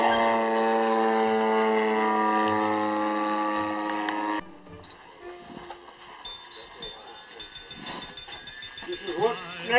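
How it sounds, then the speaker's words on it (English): A foam board model airplane with a small jet motor whines with a strong steady pitch for about four seconds, then drops out and gives way to scattered clatter and rising noise, with voices talking across the clip. "It's made out of foam board. It's got a super mega jet motor on it, 2 pounds of thrust."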